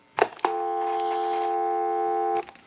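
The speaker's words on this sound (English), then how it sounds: "give you dial tone." Steady dual-tone hum of dial tone on a Western Electric rotary dial telephone under repair, starting after a couple of brief clicks and holding unbroken for about two seconds before cutting off with a click.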